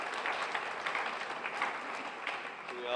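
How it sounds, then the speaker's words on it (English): Applause from a crowd at a neighborhood day event, a moderate, continuous patter of clapping that stays fairly even throughout and sounds somewhat distant. "Let's have a round of applause for these good people."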